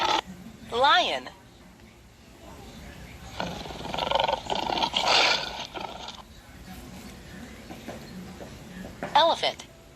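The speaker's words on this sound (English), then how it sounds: "Lion." A lion gives a loud, close roar near the start and another near the end, with a quieter, noisy stretch between them. No voices are heard.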